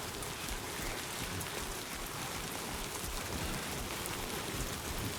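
Rain falls in the video game Death Stranding 2, a dense, even hiss of drops that stays constant and fills the scene on its own.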